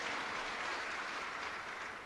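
A crowd at a political campaign rally in Shirala claps steadily for a couple of seconds, a dense, even wash of applause heard at a moderate distance.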